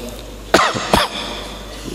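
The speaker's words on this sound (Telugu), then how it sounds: "దగ్గు వస్తుంది." Two sharp coughs about half a second apart, close and fairly loud, from a person with a fever, against a quiet room hum.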